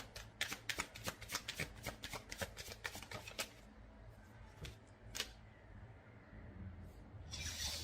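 Tarot cards being shuffled up close, a quick run of crisp riffling flicks for a few seconds, then scattered softer card rubs and taps in a quiet room.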